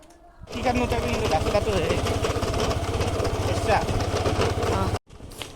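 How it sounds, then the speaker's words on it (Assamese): A motorcycle engine starts abruptly and settles into a loud, rhythmic close-up idle, thumping steadily for several seconds before cutting off, with some talk faintly present. "এতিয়া গাড়ী ষ্টাৰ্ট দিওঁ"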